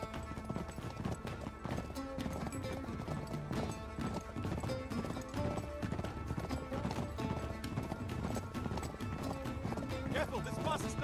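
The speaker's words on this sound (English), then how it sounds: "Riding on a horse, riding on the back of a horse" A horse gallops across the desert in the video game Uncharted 3, its rapid clip-clopping hoofbeats running continuously under game music and characters' voices.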